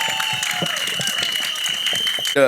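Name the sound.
audience applause at a trailer launch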